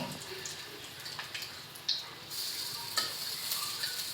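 Cabbage pakora frying in hot oil, a steady soft sizzle with a few sharp clinks and scrapes as the fritters are turned over in the pan.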